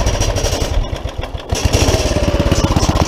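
A small Carter go-kart engine idles close by with a loud, rough, rapid chugging beat that steadies into an even putter.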